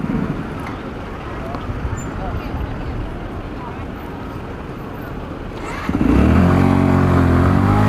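A Sinnis Matrix motorcycle rides along with a steady engine drone and wind rush, the engine note rising and revving more loudly near the end.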